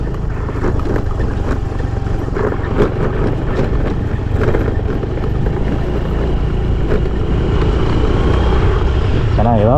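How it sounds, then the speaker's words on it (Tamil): Two-wheelers on a forest road through the Sathyamangalam Tiger Reserve, a steady loud engine drone close by, continuous under wind rush with a faint voice in the background. "ரெண்டு டூலர் வந்துருச்சுங்க"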